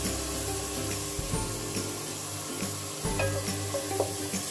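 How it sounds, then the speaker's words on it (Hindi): Minced meat frying with ginger garlic paste over a high flame, a steady close sizzle with occasional scraping stirs and clatter throughout. "मैंने कीमे को भूनना है अदरक लहसुन के साथ।"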